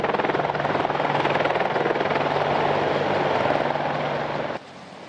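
An Apache AH-64 attack helicopter thunders loud and close with a steady rotor chop and engine roar, sustained throughout before cutting down sharply near the end.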